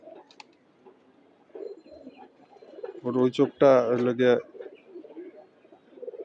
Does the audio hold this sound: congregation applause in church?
no